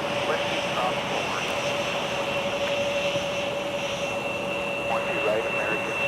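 A winter airliner engine roars steadily at MSP airport with a sustained whine, loud and continuous, and faint radio chatter sits underneath.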